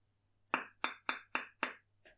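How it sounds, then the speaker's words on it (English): Five sharp metallic hammer strikes on jewelry wire being forged into a brooch, evenly spaced with ringing decay, then a softer sixth tap, close and clear with no talk. "I'm just going to go in with my hammer"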